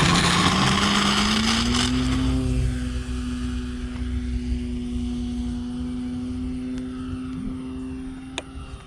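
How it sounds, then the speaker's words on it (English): An E-flite Extra 300 1.3 m RC plane makes a quick rudder takeoff. Its electric motor whine climbs in pitch, then holds a steady drone as the plane moves away and fades somewhat. "That was a quick rudder takeoff."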